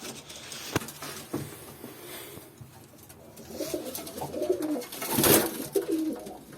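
Pigeons coo in soft, low, rolling calls that build toward the end, close by, with light flapping and rustling mixed in.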